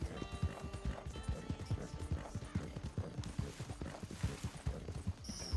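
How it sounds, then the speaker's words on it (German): A horse gallops past in a video game, its hoofbeats clip-clopping in a quick, steady rhythm at moderate volume throughout. "Der Afra ist mir gerade vorbeigeritten"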